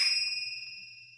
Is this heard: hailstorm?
no